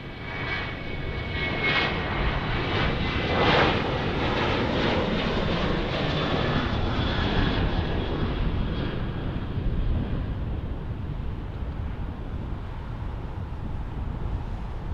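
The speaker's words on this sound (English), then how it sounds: "Southwest Airlines getting ready to take off here," A Southwest Airlines Boeing 737-800 jet roars through its takeoff run at Portland airport, a loud, sustained engine rumble and whine heard from a distance that slowly fades toward the end.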